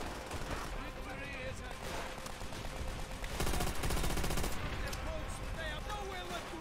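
Dense gunfire from World at War, the WWII shooter, in a cooperative mission against tanks, with bursts of automatic fire and shots piling up, loudest in a heavy volley mid-clip, under a busy game mix with a voice talking.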